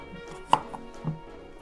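A single crisp knife chop through cucumber for a rum cocktail garnish, one sharp cut standing out, then a softer tap, close and quiet with no talk.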